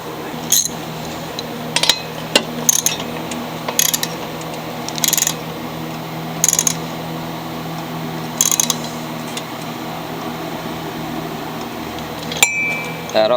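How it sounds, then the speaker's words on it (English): A socket wrench ratchets down a bolt on a Craftsman mower being repaired for backfiring, in short clicking bursts separated by pauses, close and clear over a low steady hum. "Now we'll get the socket wrench and tighten down that bolt."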